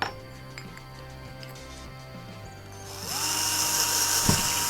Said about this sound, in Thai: เราก็จะเจาะรูนะครับ ให้เท่าขนาดกับท่อนี้นะครับ